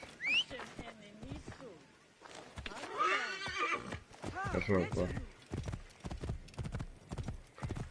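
A horse in Assassin's Creed Origins whinnies loudly, followed by the clip-clop of hooves as it walks, with a person speaking briefly over it.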